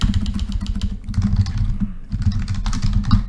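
Rapid typing on a computer keyboard clatters in quick, dense bursts with a brief pause midway, close and fairly loud over a low background hum, no voices.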